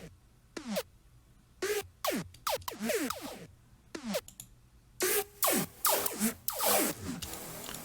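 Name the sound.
dry laser synth effect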